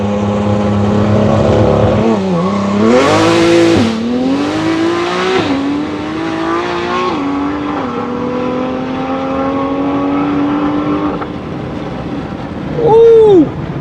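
A 1700 bhp Porsche ES1500 accelerating hard on a street run, the engine note climbing loudly through several gear changes before easing off, mostly without talk.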